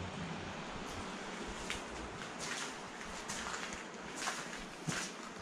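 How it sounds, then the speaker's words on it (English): Water from a waterfall rushes steadily inside an old underground brick tunnel with wooden beams, a constant broadband roar heard from some distance, with a few faint scuffs over it. "On down there's a waterfall."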